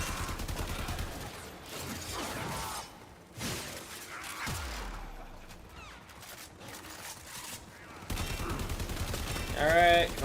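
Video game gunfire crackles in dense volleys and rattling bursts, loud and close, with shattering impacts, mechanical clatter and brief whooshes, separated by quieter gaps.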